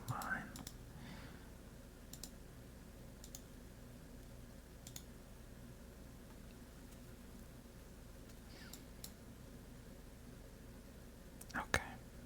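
A computer mouse clicks sparsely during a game of Minesweeper, the sharp clicks faint and widely spaced beneath a quiet, close voice.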